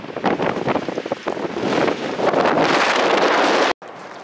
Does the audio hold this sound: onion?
no